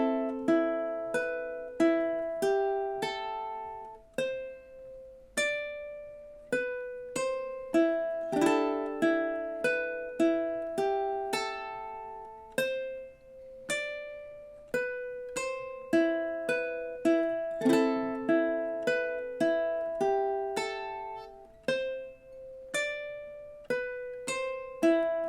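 A ukulele plucks the B section of the theme from The Exorcist, with bright, close, repeating picked notes in a steady looping pattern, each decaying quickly and layered with harmony notes, and no voice.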